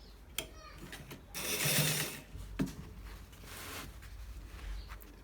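A sewing machine stitches a shawl collar with a quarter-inch seam, running in uneven bursts of mechanical whirring and clicking at close range, with a louder sustained run near the middle.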